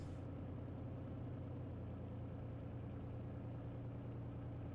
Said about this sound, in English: Which sounds like the engine on this model is on its last leg.